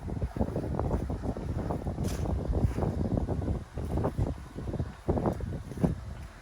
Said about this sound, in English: I'm also fighting about a 10-mile-an-hour wind coming across this field here through this narrow corridor